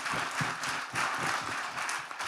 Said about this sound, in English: We must have a round of applause for him